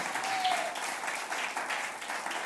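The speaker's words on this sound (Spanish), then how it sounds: "Denle un aplauso a él, al Espíritu Santo de Dios." A church congregation claps enthusiastically during a sermon, giving continuous dense applause that stays even and full for the whole stretch.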